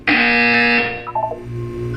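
A loud, close electronic buzzer from the video game Portal 2 blares in a single sustained tone for almost a second, then fades into a few short, softer tonal blips.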